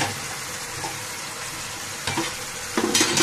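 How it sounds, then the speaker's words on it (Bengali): Fried vegetables, potato and pointed gourd for a fish curry, tipped into a hot pan of sizzling spice paste and oil, give a steady close sizzle with stirring scrapes and a louder burst near the end. "এই পর্যায়ে আমি সবজিগুলোকে ঢেলে দিব।"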